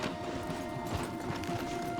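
Horse hooves clip-clop in Red Dead Redemption, a dense, even run of steady beats at moderate volume over a constant background din, with no voices.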